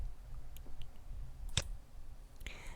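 A single sharp computer mouse click to start a recording, faint against a quiet room hum, with a couple of softer clicks around it.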